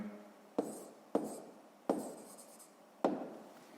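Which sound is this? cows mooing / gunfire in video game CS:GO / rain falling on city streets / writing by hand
writing by hand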